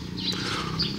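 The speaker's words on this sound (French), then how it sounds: "Le bruit des oiseaux" Birds chirp and call in a quiet residential area of Nakhon Phanom, Thailand, with a few high tweets rising over a steady low background hum.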